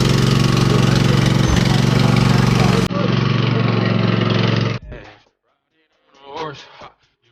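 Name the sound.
zero-turn lawn mower engine running while riding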